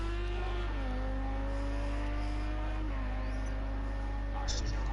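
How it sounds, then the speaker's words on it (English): A race car engine in a sim racing video game holds a steady droning tone that shifts down in pitch twice as gears change, with a low hum beneath and faint voices in the background. "Got sound of the car."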